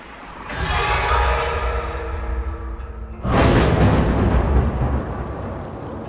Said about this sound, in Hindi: बस बारिश की आवाज और बिजली की कड़क